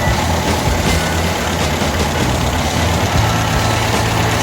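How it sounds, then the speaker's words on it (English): A 1980 Toyota Corona idles with its standard exhaust, which has lost some of its baffles, producing a steady, loud, close-up low rumble with an even pulse and no talk. "standard exhaust. She's lost a bit of baffles over the years, but still sounds pretty good."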